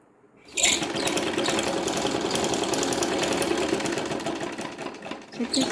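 A sewing machine stitches a 36-size blouse, running steadily and loudly for about five seconds after a brief start and then slowing near the end, with no talk over it.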